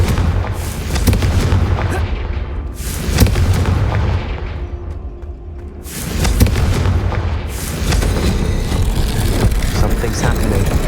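In the video game Hogwarts Legacy, Confringo blasting curses set off loud, sustained booming explosions that roll on with rumbling, heavy blasts that fade briefly midway and then surge again.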